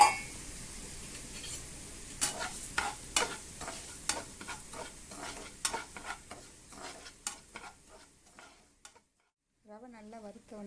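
Dry semolina stirred and scraped in a pan of ghee as it roasts, with repeated gritty clinks of a spoon and a soft sizzle, then a brief faint voice at the end.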